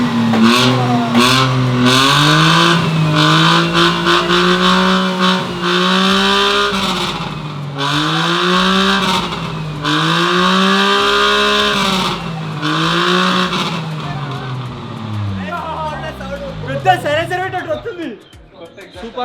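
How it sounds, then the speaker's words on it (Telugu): A car engine with its silencer cut off, on a home-built stretch limousine, revs loudly and close in repeated rising and falling swells for most of the stretch, fading toward the end. "సూపర్ కార్ లెక్క వస్తుంది సౌండ్."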